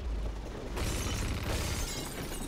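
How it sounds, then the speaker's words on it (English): Glass shattering in the shooter game Hunt Down The Freeman, one loud sudden crash of breaking panes followed by a bright, sustained tinkle of falling shards. "Is there more glass I can break in here?"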